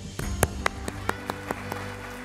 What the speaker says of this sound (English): Let us give a big round of applause to our sports champions at the Tokyo Olympics